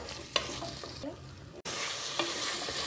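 Vegetables and curry leaves fry in a pan for Hyderabadi vegetable khichdi, giving a continuous close sizzle broken by a few clacks and scrapes of a stirring utensil and a brief pause partway through.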